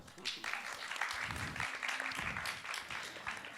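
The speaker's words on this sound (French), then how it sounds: "On peut l'applaudir pour ça." At a talk on anime and manga production, an audience applauds with lively, uneven clapping, while voices and low murmurs come through beneath the clapping.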